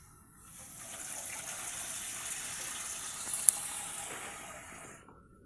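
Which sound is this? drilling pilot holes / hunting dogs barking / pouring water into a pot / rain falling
pouring water into a pot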